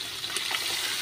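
Water poured into a pot of boiled lentils (dal), a brief steady close gush of liquid with no voices.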